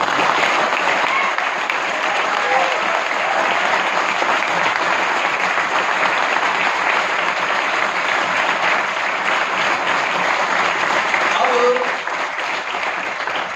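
An audience at a mentorship seminar breaks into loud, sustained applause that lasts about twelve seconds, then eases slightly near the end.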